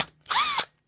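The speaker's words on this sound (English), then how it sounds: "I'm going to try a drill" A power drill bores through rubber windlace on a 1947 GMC truck cab with one brief, loud whirring run that spins up and cuts off, close and alone.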